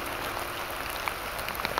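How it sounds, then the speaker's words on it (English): Steady rain patters on a wet outdoor surface on a miserable day, a dense continuous hiss with scattered louder drips, fairly close and with no talking. "love hearing the rain"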